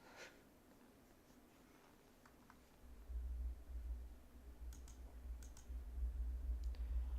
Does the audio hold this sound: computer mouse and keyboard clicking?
yes